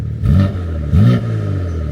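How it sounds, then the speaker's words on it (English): Two short, muted engine revs rise and fall over a low, steady idle from a modern BMW M3 with exhaust valves closed; the exhaust note stays subdued and fairly quiet. "how quiet this exhaust is with the valves closed"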